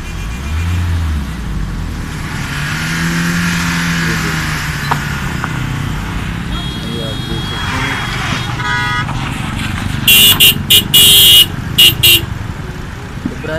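A pickup truck engine strains on a steep mountain road on the route through Naran, Babusar and Khunjrab, with low engine rumble and passing traffic, then a run of sharp, loud horn toots clustered near the end.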